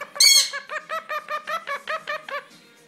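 A pet bird squawks and chatters in a quick rhythmic run of about nine close, loud calls after a sharp opening shriek, with no talking.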